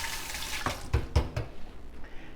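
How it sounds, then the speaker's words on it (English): Running sink tap water splashes while raw chicken is rinsed off, with a few louder gushes and splats in a short burst, close by, with no talking. "I'm going to rinse this off here"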